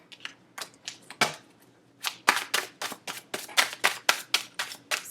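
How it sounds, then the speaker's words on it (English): Tarot cards riffle-shuffled by hand, a series of sharp, crisp flutters and snaps in an irregular rhythm, close and fairly loud, with no voices. "2 more shuffles"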